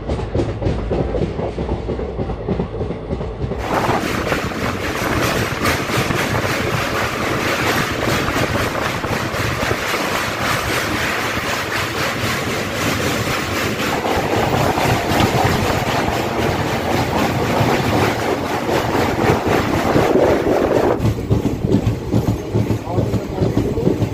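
The 03161 Kolkata to Digha special train rolls out of Mecheda station, its loud rumble and rhythmic clickety-clack of wheels running continuously, with voices talking over it at times.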